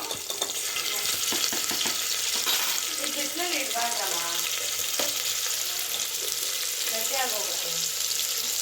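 Ginger garlic paste and curry leaves are stirred into a hot pan for avarekai sambar, a steady close sizzle and frying hiss running throughout with scraping stir strokes and faint background voices.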